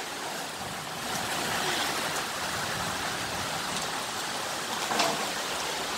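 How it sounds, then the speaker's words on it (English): Steady, soft rainfall hisses evenly throughout, with no voices or other distinct sounds. "It's just raining."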